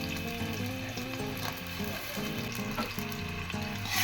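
Onion and two tomatoes frying in oil in a pan for a Goan pepper and cumin curry, giving a steady close sizzle under a layer of music, with no break in the sound.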